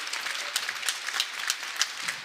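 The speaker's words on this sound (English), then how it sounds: "Crowd clapping, and Valenzi serve into the net it goes." A crowd claps steadily at a Big Ten men's volleyball match between Ohio State and Penn State before a serve, with fairly even, continuous applause and a few louder claps standing out.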